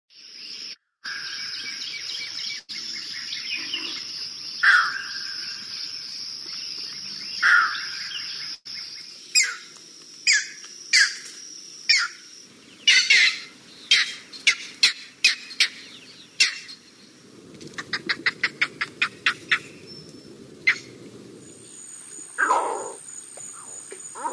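Squawking calls of secretive Maine marshbirds, given as repeated bursts and rapid chattering series that stand out over a faint background of insect-like trilling, with no talk.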